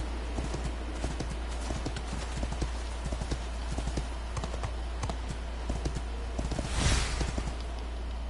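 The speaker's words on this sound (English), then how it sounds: "you're steamrolling with your horse" Horse hooves clip-clopping at a steady galloping rhythm in the video game Dragon Quest XI, continuous and fairly close over a constant low game hum, with a brief swell of louder sound near the end.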